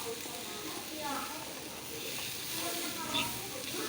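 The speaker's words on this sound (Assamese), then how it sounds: "এয়া অলপ টাইম মই ভাজি আছোঁ।" Fish fries in a pan with a steady, moderate sizzling hiss that continues without a break, and faint voices may sit underneath.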